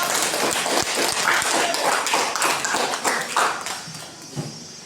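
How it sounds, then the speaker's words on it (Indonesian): Applause for a presenting group in a teachers' training session in Sikka, dense and sustained clapping filling the room at close range, slowly thinning toward the end. "Tepuk tangan untuk kelompok."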